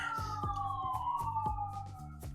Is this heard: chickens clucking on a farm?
no